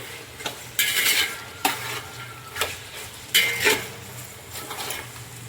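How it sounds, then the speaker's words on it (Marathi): Village goat mutton, Kolhapur style, frying in oil in a pot and stirred in a few bursts: a spoon scrapes and clanks against the metal over a low, continuous sizzle, close up and without speech. "मस्त असं मिक्स करून घेऊया आता आपण"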